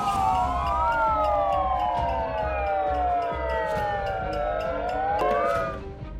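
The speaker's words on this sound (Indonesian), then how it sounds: "Mereka juga menyalakan sirine melalui pengeras suara untuk menarik perhatian." Siren blared through a loudspeaker at a street protest, loud and continuous, with wailing tones sweeping up and down over crowd noise for the whole stretch.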